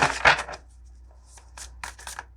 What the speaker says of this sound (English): I'm actually going to shuffle just another second to make sure.